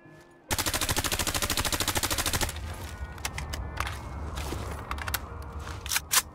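A rapid burst of automatic assault rifle fire from a modded weapon in the video game Fallout 4 cracks out loud and evenly for about two seconds, followed by mechanical clicks and rattles of weapon handling.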